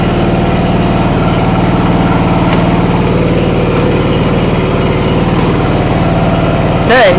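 A John Deere L100 lawn tractor engine runs steadily just after a cold start, a close, loud, even idle with a constant throb that lasts throughout, ending in a brief surge of noise.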